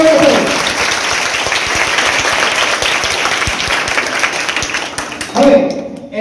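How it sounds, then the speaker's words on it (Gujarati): A group claps at an Azadi Ka Amrut Mahotsav quiz event. Loud, steady applause lasts several seconds, with a voice speaking briefly at the start and again at the end. "તાળીઓ વડે"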